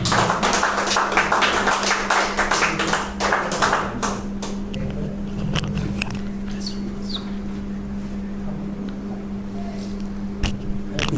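An audience at a conference in Khammam claps at length to welcome a pastor onto the stage, a dense burst of applause that thins to scattered claps and fades into room noise.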